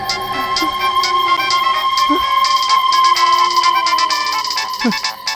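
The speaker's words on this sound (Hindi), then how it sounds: "ये तो मेरी रिंगटोन है।" A melodic electronic ringtone plays continuously, with a few brief voice sounds and noises underneath.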